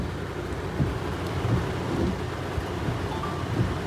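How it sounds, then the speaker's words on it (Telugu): Heavy rain pours steadily with a dense, even roar, and low thunder rumbles beneath it, with no voices. "ఏమైంది ఇంత వర్షం పడుతుంది?"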